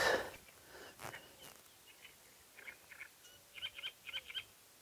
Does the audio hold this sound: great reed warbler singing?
yes